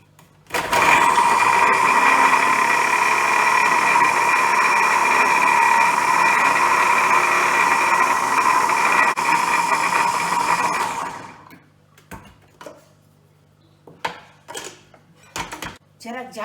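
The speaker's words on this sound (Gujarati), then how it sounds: "હવે જ્યુસરમાં ગ્રાઇન્ડ કરવાની।" A kitchen juicer grinds cucumber, tomatoes, green chillies, lemon juice and salt into chutney: a loud, steady motor whir runs for about eleven seconds, then stops, followed by a few light clatters of the jar and lid.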